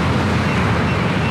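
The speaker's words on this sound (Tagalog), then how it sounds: "Yung marinig mo lang yung alon, lakas." Strong waves surging on Al Aqah beach in Fujairah at high tide in the evening, a steady, loud, dense broadband wash with low rumble and wind noise, no voices.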